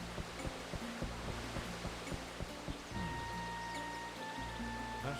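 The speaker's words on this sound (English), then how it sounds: "I could hear the great roar of the waterfall" Steady rushing roar of a waterfall in the PS2 game Disaster Report, a broad even wash of water noise with a soft repeating rhythmic tapping early on and a faint sustained tone later, quiet and distant.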